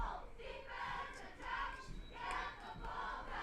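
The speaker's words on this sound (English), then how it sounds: "Another defensive cheer." Crowd cheering in the stands at a junior varsity football game between the Wolves and Ravens, a sustained roar of voices swelling in several waves, moderately distant and fairly faint.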